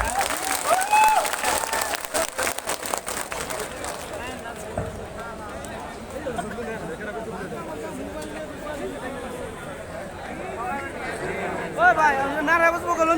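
A crowd applauds at a 2024 election meeting at Goraimari Town Club, with dense clapping for the first few seconds that fades into someone speaking over a murmuring crowd.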